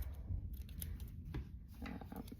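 Scissors snipping the frayed end of a woven cotton strap beside a swivel hook, a few quiet, close cuts and soft handling rustles over faint background hum.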